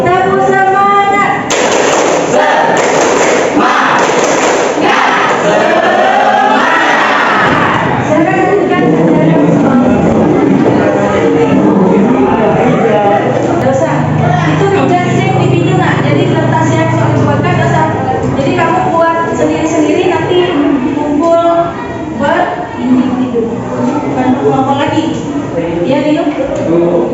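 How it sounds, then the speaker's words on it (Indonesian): Classroom of children doing the tepuk semangat clapping chant: sharp bursts of group hand claps near the start, then many young voices chanting and calling together in a loud, busy room. "Kita tepuk semangat sebentar. Tepuk semangat."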